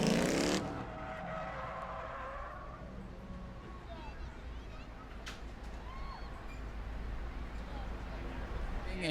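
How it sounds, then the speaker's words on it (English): Stock race cars roll through turns three and four at New Smyrna Speedway, their engines a steady, fairly distant roar with occasional tire noise, while a track announcer talks over the sound. "Zach Curtis going to roll through turns 3 and 4, further extending his fantastic points lead"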